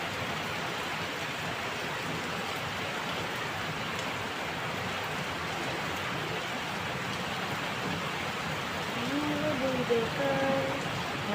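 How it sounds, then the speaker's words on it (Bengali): Steady rain falls throughout, a dense, even hiss close by with a slightly louder swell near the end, while faint voices sit underneath. "সুন্দর বৃষ্টি পড়ছে"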